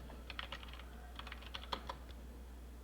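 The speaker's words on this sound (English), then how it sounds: "we're going to type hostname." Quick, light keystrokes on a computer keyboard entering a short command during a Windows Server lab, a brief cluster of clicks over a low steady hum.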